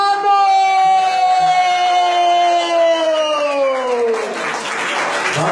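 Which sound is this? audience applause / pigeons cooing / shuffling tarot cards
audience applause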